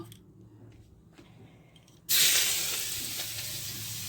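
Garlic paste dropped into hot frying oil left from frying fish, bursting into a loud, sudden sizzle halfway through after quiet kitchen background, then a steady hissing fry that fades slightly.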